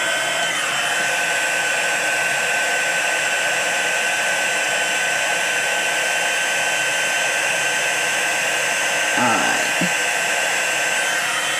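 A heat tool melting embossing powder on a card gives a steady loud blowing whir that runs unbroken throughout, with a brief spoken word near the end.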